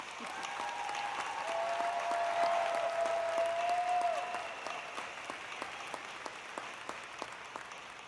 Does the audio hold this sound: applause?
yes